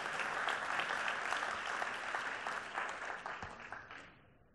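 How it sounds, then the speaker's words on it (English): A conference keynote audience applauds together, a dense wash of many hands clapping that holds steady and then tapers off toward the end. "big round of applause, because you're here early."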